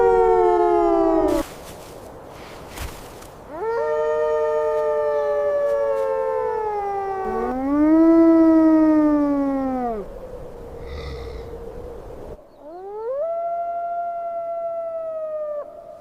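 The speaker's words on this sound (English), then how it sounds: "The alpha gray wolf throws its head back, unleashing a long, mournful howl." A pack of gray wolves howls across a frozen forest landscape, long rising and falling mournful tones overlapping in several voices, loud and sustained with short breaks between howls.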